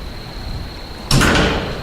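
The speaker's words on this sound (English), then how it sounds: "mainly what impressed me about that door was the locking sound" A handleless door closes and locks with one sharp, loud clunk after quiet room tone, followed by a brief ringing decay, with no talk.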